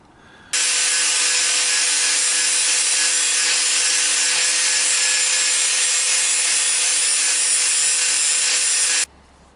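A power grinder shaping radius designs into a prop sword, as Finn's golden sword from Adventure Time, runs as one loud, steady, unbroken abrasive whine for about nine seconds with no talking.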